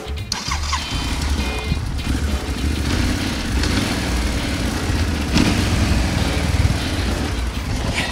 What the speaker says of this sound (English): you start the engine and take the second gear